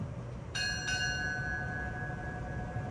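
A ship's bell struck twice at a US Navy retirement ceremony, two bright metallic strikes close together, the ringing tone sustaining and slowly fading in a quiet hall.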